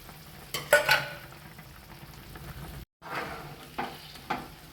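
Coriander paste goes into half-cooked, simmering chicken curry, giving a few soft scraping stirs and a brief sizzle against a low steady bubbling, with a short silent gap midway.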